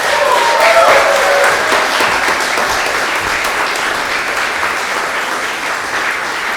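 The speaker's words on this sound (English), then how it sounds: "please give a warm round of applause" Sustained applause from a large audience at a book launch, steady and dense throughout, gradually easing slightly toward the end.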